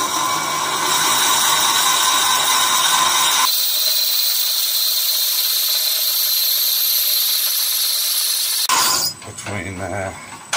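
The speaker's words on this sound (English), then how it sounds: "When you're drilling, there's a certain balance you get." A power drill whines at high pitch, then drops to a thinner steady grind as the bit bores through wood, ending with a few sputtering, uneven bursts.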